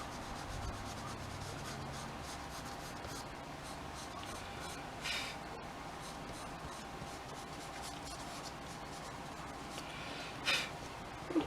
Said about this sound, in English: you see some marks which you want to try and rub away if you can